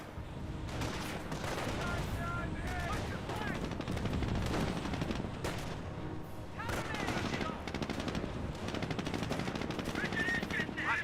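An MG42 machine gun firing in the Company of Heroes video game, long dense rattling bursts mixed with rifle shots and battle noise, steady and loud throughout, with a commentator talking over it.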